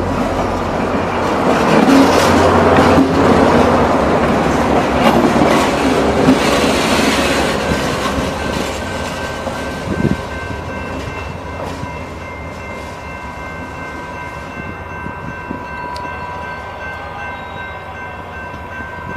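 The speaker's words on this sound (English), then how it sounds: "I rode this train at 6:35 from Berlin, all the way out here." A Rail Runner commuter train bound for Santa Fe passes close by, a loud continuous rumble and rattle of rail cars with clickety-clack, then fading to a steadier, quieter roll.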